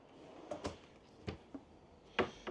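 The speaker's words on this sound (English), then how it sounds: "2 pull-out drawers right in here." Pull-out kitchen drawer in a 2025 Riverstone Lost Pines 40LPL RV gives a few quiet, close sliding knocks and clicks spread over a couple of seconds, with a sharper bump near the end.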